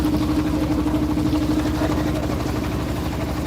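A boat engine drones steadily during a village river trip, a constant low idling hum with a faint tonal whine running unbroken throughout, close and fairly loud with no voices over it.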